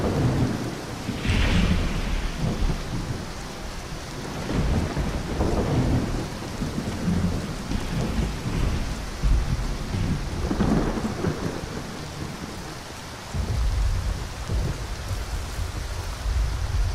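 Steady heavy rain and rolling thunder in the Skyrim video game, a dense continuous roar with several deep rumbling swells, loud and without speech.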